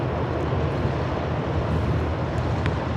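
A Boeing 777 airliner at Charlotte Douglas airport gives a steady, dense low jet rumble with wind-like roar, moderately loud and unchanging over a few seconds, no voices.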